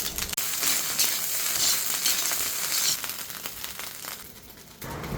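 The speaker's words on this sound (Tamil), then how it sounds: "நாங்கள் வெங்காயம் லீஸ் கறி கொச்சிக்காய் சேர்த்திக்கோம்." Onion, leek, curry leaves and chilli frying in a pan, a dense close sizzle with crinkly crackles that eases off briefly near the end before flaring again.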